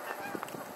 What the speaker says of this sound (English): Those geese have seriously just flown a circle twice around my head